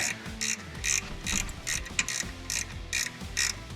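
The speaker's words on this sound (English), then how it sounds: "Now these Icon ratchet wrenches are nice. They give you the length you need." An Icon ratchet wrench clicks through repeated quick bursts of ratcheting while working on the oil pan of a 2019 Kia Optima, close and fairly quiet, with no talking.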